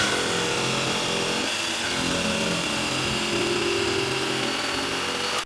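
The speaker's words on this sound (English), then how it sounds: "I've just got to cut that with the jigsaw." A jigsaw cuts through a laminate flooring plank, a steady, loud buzzing saw noise that runs continuously and close by with no talking.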